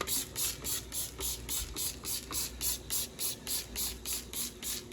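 A spray bottle fires foam cleaner in a steady rhythm, a dozen or so short hissing bursts in quick succession, close up and fairly quiet.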